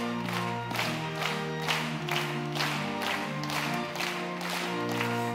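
A church prayer-meeting congregation claps in steady rhythm along with loud hymn singing and sustained instrumental accompaniment, the beats evenly spaced and blended into the music.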